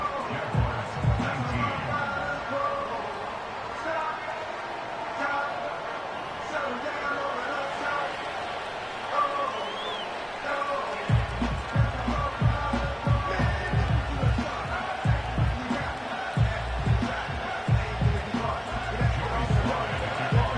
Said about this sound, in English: The English crowd is ready, and off we go from Wembley